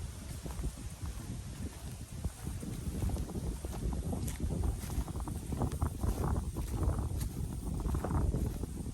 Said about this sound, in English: Gosh, that wind isn't too bad.